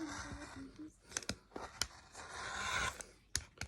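Several short, sharp cutting strokes and scrapes as a rotary cutter slices through fabric along a face mask template, irregular and close, with some brief rustling between cuts.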